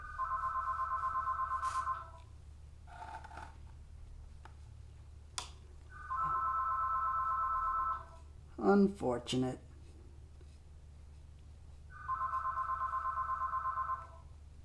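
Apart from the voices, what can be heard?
phone ringing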